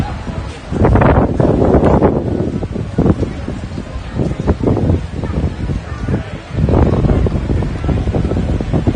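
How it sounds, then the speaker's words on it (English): Gusting wind buffets the microphone outdoors at Hollywood Studios, with heavy low rumbling bursts that rise and fall across several seconds, loud and close, with some voices in the background. "Ooh, that wind."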